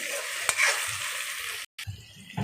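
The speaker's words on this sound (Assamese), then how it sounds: "ইয়াতে বাৰু আলু চালু একো দিয়া নাই, অকল কোমোৰাই ভাজিছোঁ" Pumpkin pieces, with no potatoes added, frying in a pan, giving a steady loud sizzle broken by a sharp clink near the start and a brief hush before the hiss resumes.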